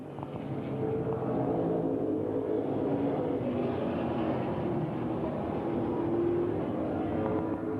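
Grand Stock stock cars racing at Langley Speedway in 1994, a steady, loud, continuous engine drone from several cars circling the oval late in the race, with no talk.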